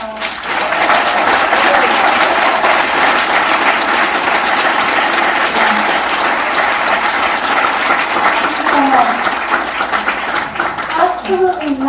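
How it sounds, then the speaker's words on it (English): At the Women's Earth Alliance Spring Benefit 2026, a large audience claps in a steady, loud wave that holds for the whole stretch, with voices mixed in among the applause. "let's give this incredible community a round of applause"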